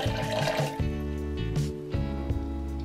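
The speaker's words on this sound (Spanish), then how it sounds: "Le vamos a poner una taza de agua" A cup of water pours into a blender holding peeled, chopped beetroot, a steady close splash and trickle lasting a few seconds over a constant tonal background.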